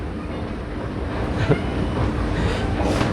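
Milan metro train running in a steady, continuous rumble with a faint rhythmic clatter of wheels, heard close from inside or beside the carriage.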